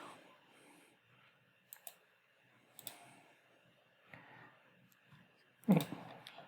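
Computer mouse clicks in a quiet room while working in QuickBooks accounting software, a few sharp isolated clicks spread out over several seconds, close and faint, ending in a louder knock or handling thump.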